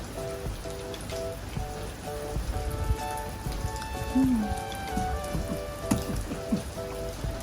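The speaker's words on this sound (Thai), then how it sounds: "วันนี้บรรยากาศฝนตกครับผม" Steady rain patters down outdoors during a Thai home cooking and beef liver meal, a dense, even hiss with scattered drips and light clatter throughout, with faint tonal sounds in the background.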